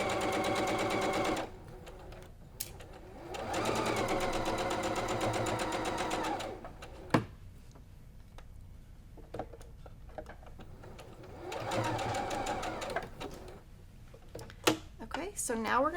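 A sewing machine runs in steady bursts while stitching a flying geese zig zag quilt block seam toward the edge, with long runs separated by pauses where a person talks.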